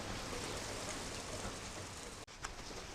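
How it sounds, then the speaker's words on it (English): Steady rain falling with water running off, a continuous broadband hiss that holds evenly throughout, broken by one brief dropout near the end. "See, it slowed down raining, but all that water has to go somewhere."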